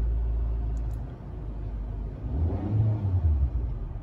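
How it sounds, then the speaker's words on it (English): Manual car engine revving gently while a learner works the clutch: a steady low rumble that swells midway, with no talk over it. "rev it up to like in the middle between 1 and 2"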